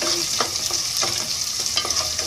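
Small onions and garlic cloves sauté in a pan with a continuous close sizzle, broken by repeated scraping stir strokes every half second or so, no talk.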